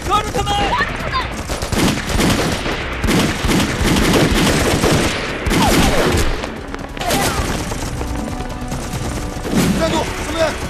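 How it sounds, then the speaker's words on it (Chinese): Rapid bursts of rifle and machine-gun fire crackle through a loud battle scene in a Chinese anti-Japanese war film, dense volleys over several seconds mixed with shouting voices. "后方开枪了！"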